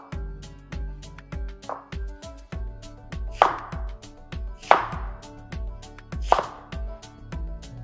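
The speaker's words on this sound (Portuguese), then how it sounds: "nós vamos picar também a cebola" Knife chopping onion into large cubes on a cutting board, a steady run of sharp, close taps with a few heavier strikes, heard alone with no talk.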